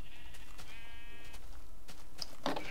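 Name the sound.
sheep bleating in Minecraft video game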